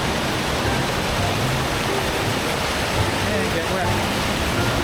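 Rushing stream water on a moor approaching Black Tor Copse, a steady loud broadband wash of flowing water filling the whole stretch as someone wades in, with no clear individual splashes standing apart.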